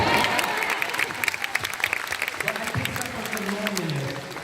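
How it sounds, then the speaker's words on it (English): Audience at a small meet-up in Singapore breaking into scattered clapping, fairly faint and uneven, mixed with a voice talking over it. "Someone started clapping."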